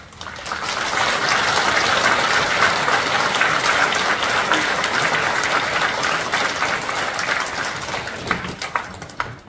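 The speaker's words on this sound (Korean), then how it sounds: "큰 박수로 환영해 주시기 바랍니다" Steady, dense applause from a large church congregation at a Thanksgiving dawn prayer service in Yanglim Church, Gwangju, fills the whole stretch, loud and even before tapering slightly at the end.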